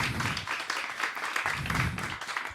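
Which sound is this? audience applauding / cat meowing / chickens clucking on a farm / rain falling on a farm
audience applauding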